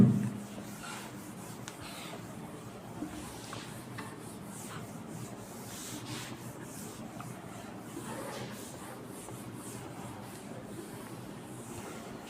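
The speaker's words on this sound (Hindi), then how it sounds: "मैं इसको रब करने जा रहा हूं" An object is rubbed to charge it with static electricity, giving a soft, continuous scratchy rubbing sound, faint and close, with a brief knock at the start.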